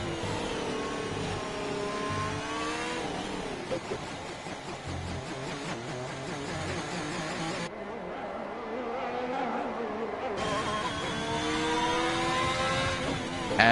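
Race car engine in a sim racing game at the Barcelona circuit, a steady loud high-revving drone with shifting pitch sweeps, briefly dipping near the middle before surging back up.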